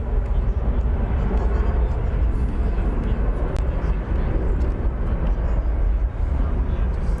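American Airlines jet in 100th anniversary special livery at DFW Airport, a loud continuous broadband engine roar that stays steady throughout.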